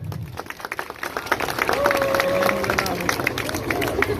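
Wedding guests at a large outdoor Islamic wedding in Nevşehir applaud after the bride signs, a crowd clapping that grows louder midway and continues under murmuring voices and general hubbub.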